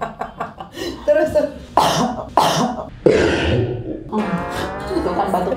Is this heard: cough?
yes